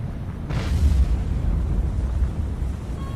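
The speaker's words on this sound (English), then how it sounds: "Fire missile." A missile fired in a naval combat video game, set in a 2002 Russian campaign with the carrier Admiral Kuznetsov, gives a heavy low boom with a short burst near the start, then a sustained deep rumble that holds steady to the end.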